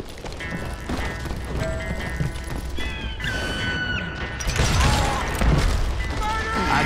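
A horse in the Wild West shooter Call of Juarez: Gunslinger, hooves clip-clopping amid game effects, crashes and a rising rumble, with whinny-like tones mixed into the noisy scene.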